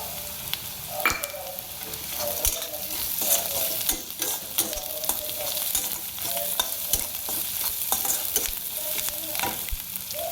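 Chopped onion fries in a pan with a little salt while being stirred, giving a steady close sizzle broken by repeated scraping and clinking strokes of the spoon, with no talking.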